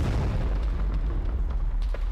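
Artillery shell exploding in a combat video game, a deep continuous rumbling boom with low-end roar and scattered pops, loud and sustained without voices.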